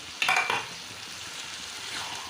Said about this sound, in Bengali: এখন আমি এই মটরগুলো একসঙ্গে দিয়ে আর একটু সাঁতিয়ে নেব